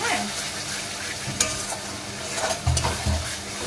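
Spiced masala for Bengali mutton kosha sizzles steadily in a pan while being stirred, with scraping spoon strokes and a few sharper clinks over the continuous frying hiss.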